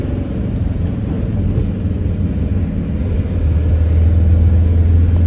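Truck engine holding steady revs in slow traffic, a loud, continuous low rumble that deepens and grows slightly louder in the final seconds.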